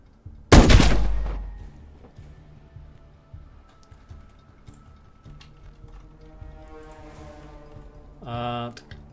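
A single loud gunshot cracks out near the start of a shooter video game sequence, followed by quieter mechanical clicks, a later sharp burst, and a speaking voice.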